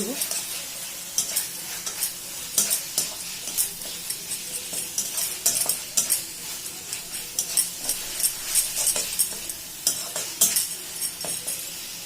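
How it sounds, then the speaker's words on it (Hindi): Masala frying in oil for a kasundi chicken curry is stirred around the pan, with repeated scraping strokes over a constant close sizzle and no voices. "मसला को भलसे घाटिबा जमी मसला भलसे मिसी जाए तेल छाड़"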